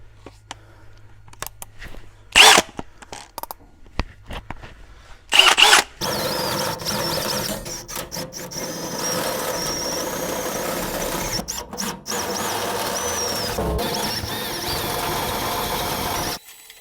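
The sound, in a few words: power drill drilling 10.5 mm hole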